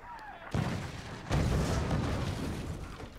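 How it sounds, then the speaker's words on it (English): Mortars firing in the physics fort-building game Forts, two heavy booms in succession followed by a sustained rumbling roar, loud and alone. "So I'm going to put a bit more power into the mortars and see if we can hit their mortars."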